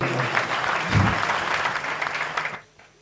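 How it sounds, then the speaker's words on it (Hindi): An audience at a Hindi poetry gathering (kavi sammelan) breaks into dense, sustained applause that stops abruptly near the end. "तालियां बजा दीजिए"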